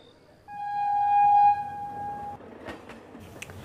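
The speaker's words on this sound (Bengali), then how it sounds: "ট্রেন ছুটছে।" A train in a horror story soundscape gives one long, loud, steady horn blast that holds for about two seconds, then fades into a faint rumbling background with a few soft knocks.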